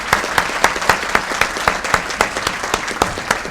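An audience at a city's State of the City address claps together in a loud, steady round of applause, sharp rhythmic claps filling the room.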